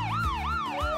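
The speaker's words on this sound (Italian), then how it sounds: "Sta arrivando l'ambulanza." A toy ambulance siren wails in a rising and falling electronic tone, three quick sweeps in a row, loud and close with no voices.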